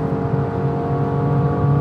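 A BMW M2 engine pulls hard at full throttle, a loud steady whirring drone with rising tonal harmonics heard from inside the car, continuous and without speech.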